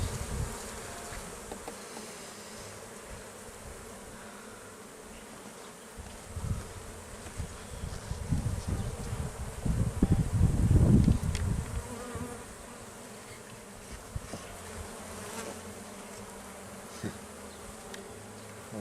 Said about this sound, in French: Voilà une belle abeille avec des belles plottes.